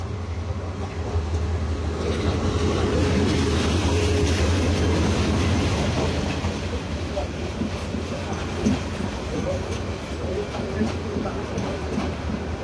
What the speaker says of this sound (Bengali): ঢাকাগামী হাওর এক্সপ্রেস ট্রেনটি এখন তেজগাঁও রেল স্টেশন প্রবেশ করলো